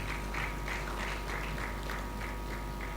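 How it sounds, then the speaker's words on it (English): Audience at a panel event on social inclusion in Nigeria applauding, a steady wash of many hands clapping throughout, moderately distant and even, with no talk over it. "A round of applause, ladies and gentlemen."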